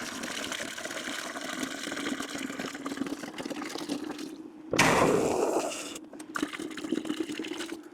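Vinegar and water pour into a bucket while descaling a tankless water heater, a steady watery rush with a louder gush about halfway through, then a continuing trickle under a circulating hum.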